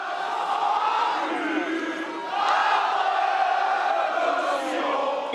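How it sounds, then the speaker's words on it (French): A large crowd outside the Zénith sings the Marseillaise, a loud, massed chorus of voices swelling in waves with shouting mixed in. "Et dans la foule, la Marseillaise retentit."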